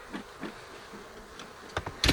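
Faint honeybee buzzing hums low in the background from an open hive, with a few brief sharper clicks and bumps near the end.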